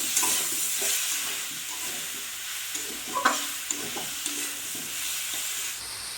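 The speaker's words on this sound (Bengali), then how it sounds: "এবার কেটে রাখা টমেটোগুলো দিয়ে দিলাম। এবার এটাকে কষতে থাকবো।" Chopped tomatoes sautéing in a pan for masoor dal khichuri, a steady soft sizzle with scraping stirs and a few clicks of the spoon against the pot, close and moderately quiet.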